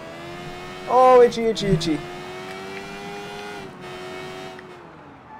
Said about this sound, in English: Now we get on our bike and we go home.